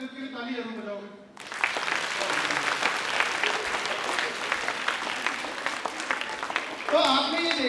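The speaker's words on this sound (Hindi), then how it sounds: "ताली जरूर बजाओगे" An audience at a school awareness session claps for a child. The applause starts abruptly after a short stretch of talk and holds steady for several seconds, then talking resumes over the fading claps.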